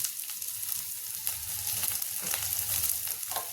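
Carrots, tomatoes and potatoes hitting hot oil in a frying pan for bhindi manchurian, giving a loud, continuous sizzle with bursts of crackling, close up.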